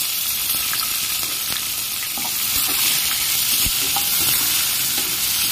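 Onions fry in oil for a home-style Odia mutton curry, with a dense, loud, continuous sizzle and a few faint stirring scrapes over it, and no speech.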